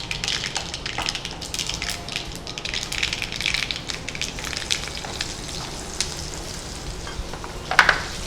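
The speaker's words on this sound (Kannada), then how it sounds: "ಈಗ ನಾವು ಫ್ರೈ ಮಾಡ್ಕೊಂಡಿರೋ ಬೆಂಡೆಕಾಯಿ ಅದಕ್ಕೆ ಹಾಕೊಳ್ತಿದ್ದೇವೆ." Fried okra (bhindi) sizzles and crackles in a pan of mustard-seed tempering as it is stirred, a dense continuous spitting with scraping stir noises and a louder burst near the end, no talking.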